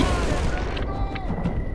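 A grenade goes off in the video game Battlefield Bad Company 2 as a low, muffled boom with rumbling gunfire and battle noise around it, a loud, dense mix with short sharp bursts near the end.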